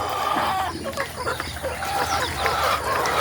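A flock of about a hundred newly arrived ready-to-lay hens clucks busily while being fed and watered, a dense, close, continuous chorus of overlapping clucks and chatter.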